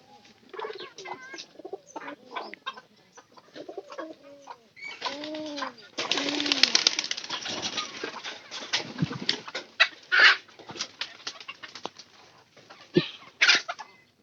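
Pigeons in a loft coo softly in rolling, repeated calls, with wing flutters and scattered clatter at close range, and no talking.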